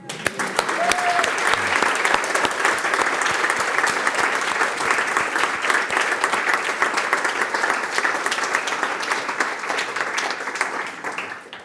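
Prolonged applause rises quickly and holds strong from an audience at a university inaugural lecture, with a brief voice at the start before tapering off near the end.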